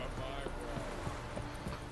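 A horse in the video game The Witcher 3: Wild Hunt trots with steady, even clip-clop hoof beats at a moderate level under game ambience, while someone talks over it.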